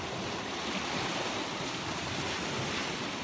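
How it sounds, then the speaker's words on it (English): Waves roll in on open water by a shore, a steady, dense wash of surf and wind noise filling the whole stretch without pauses or voices. "see the waves coming in?"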